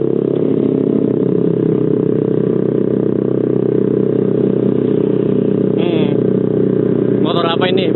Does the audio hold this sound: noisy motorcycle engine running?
yes